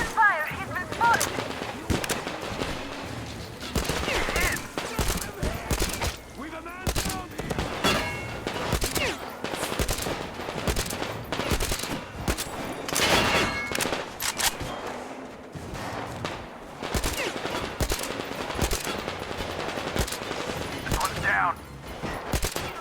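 Dense game gunfire from Metro Exodus, with rapid automatic bursts and repeated shots crackling almost nonstop through the scene, loud and close, mixed with game sounds and occasional voices.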